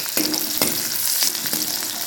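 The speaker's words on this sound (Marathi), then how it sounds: "त्याच्यात थोडेसे आपण जिरा टाकून घेऊया आणि थोडेसे मोहरी सुद्धा" Cumin and mustard seeds crackle and sizzle in hot oil with chopped green chillies in a home kitchen pan for a radish dish, a steady close hiss broken by a few sharp pops and stirring scrapes.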